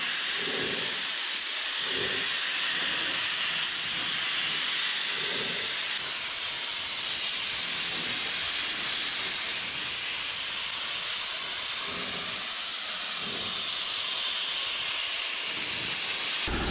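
A spray gun lays a second medium wet coat of paint on a 1959 Dodge Coronet, giving a loud, continuous hiss with pulsing bursts as the gun passes across the body panels.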